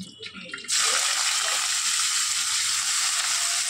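Bitter gourd hits hot oil with a sudden loud, steady sizzle that starts after a brief quieter moment and continues strongly, close by, with no talking.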